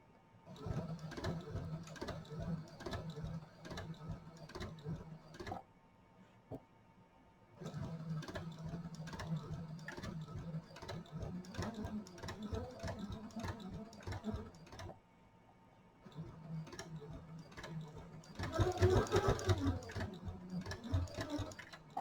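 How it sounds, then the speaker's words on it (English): A sewing machine stitches a see-through project pouch in three bursts of rapid needle clatter, each lasting several seconds and separated by short pauses. It is close and fairly quiet, with the last burst overlaid by a brief louder rustle. "Now we're going to sew the other side."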